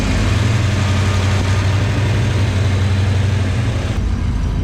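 A 650 engine idles roughly and loudly up close, a steady low rumble with uneven pulses that keeps running for the whole stretch with no talk over it.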